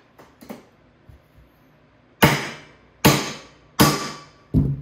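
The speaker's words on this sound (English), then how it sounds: "It's just a nice, smooth, consistent blow, and really just letting the weight of the hammer fall down on it." Four sharp, evenly spaced hammer blows ring out on metal while a Van's RV-14 airplane vertical stabilizer is being built, each a loud crack with a short decaying ring, after a few faint taps.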